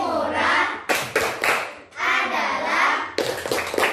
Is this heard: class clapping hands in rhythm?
yes